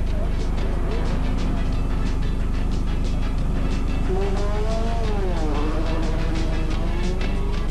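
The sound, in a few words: Ford Sierra rally cars racing past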